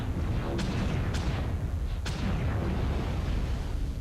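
Weapon fire in the video game MechWarrior Online during mech combat: about three sharp booming shots spaced irregularly over a constant heavy rumble of machinery.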